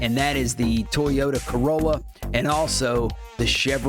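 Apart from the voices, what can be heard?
No distinct noise like a dog, phone or traffic.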